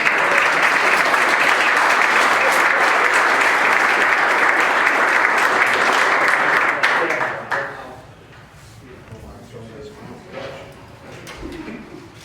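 A meeting audience applauds employees named for their years of service at a township board organizational meeting, with steady, dense clapping for about seven seconds before it fades to scattered claps and quiet room murmur.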